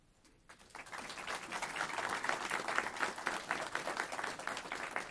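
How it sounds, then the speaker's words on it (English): An audience at a formal event on African American law enforcement leaders gives a modest round of applause for a guest, Reverend Thomas L. Bolton, as he is introduced, rising from silence into steady clapping that carries on. "Please give a small round of applause for each member as I introduce them."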